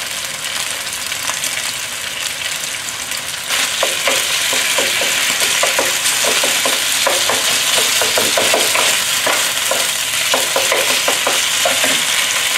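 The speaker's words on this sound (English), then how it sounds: "The frying pan actually reduces the heat, so I'm not going to stir it." Chicken frying in hot oil in a frying pan, a steady loud sizzle that swells partway through, with crackles and pops scattered over it and no talking.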